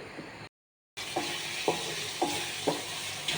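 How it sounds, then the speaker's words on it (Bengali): Spiced eggs cooked with meat masala sizzle steadily in a pan while a spatula scrapes through them in four evenly spaced strokes, close and clear after a brief dropout. "এখন ডিম ভোনা করতেছি ডিম ভোনাটা একটু অন্যরকম করে করতেছি"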